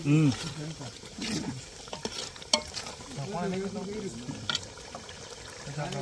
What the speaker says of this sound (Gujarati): ડુંગળી છે ને ધીમે ધીમે ઓગરતી જાય તમે જોઈ શકો દેશી ચૂલા ઉપર